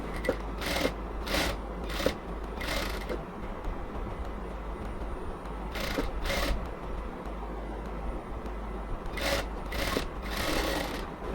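A sewing machine stitching a baby frock runs in several bursts of rapid mechanical whirring, separated by short pauses, close and fairly loud over a steady low hum.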